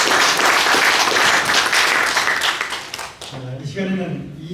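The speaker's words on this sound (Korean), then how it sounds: "우리 서로를 위해서 박수하겠습니다." Audience applause at a Martin Luther King Legacy Dinner in a Korean banquet hall, dense clapping for about three seconds that cuts off as a voice starts talking.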